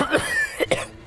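A person with flu-like illness coughs a few times in quick succession, close and fairly loud, inside a car.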